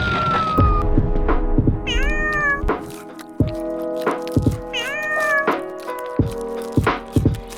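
Cats meowing: several drawn-out, rising meows repeated over a few seconds, close and clear, with soft thumps and rustles between them.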